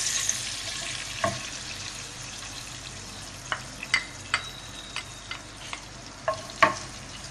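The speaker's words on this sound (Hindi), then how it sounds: "अभी हम ये घी डाल रहे हैं।" Ghee sizzling in a hot pan for chicken karahi, a continuous soft frying hiss punctuated by a series of sharp metallic taps and scrapes of a utensil against the pan.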